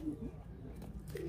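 A young pigeon gives soft, low coos, faint and brief, heard at the start and again at the end over a quiet background hiss.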